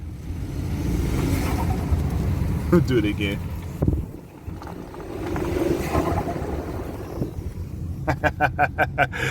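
A 2021 Ford Bronco Sport engine hums and rises in revs at low speed under talking, with a brief voice remark near the middle and rapid clicking near the end.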